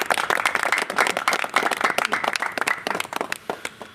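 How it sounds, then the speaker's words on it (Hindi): Dense, lively clapping fills the room at a Jan Adhikar Party meeting in Purnia as the crowd applauds Shamshad sir, steady and close with sharp individual claps throughout. "ताली शमशाद सर जी के लिए भी ताली भाई"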